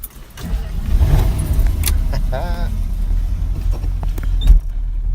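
A muscle car engine, a Trans-Am Cuda, rumbles with a low, steady gurgle close by, joined by some mechanical clicks and faint voices over the idle.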